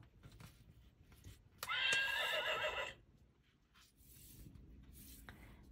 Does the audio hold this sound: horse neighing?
yes